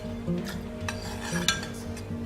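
A flaxseed and water mixture stirred in a pot with a utensil, giving soft repeated scraping and clinking strokes over a steady low hum, close and moderately quiet.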